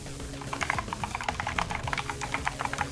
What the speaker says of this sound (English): Does my typing sound like nicer at least?